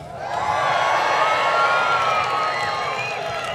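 An outdoor audience at a Royal Marines band concert in Deal cheers loudly, swelling quickly into a sustained roar of many voices with scattered whoops, then easing slightly at the end.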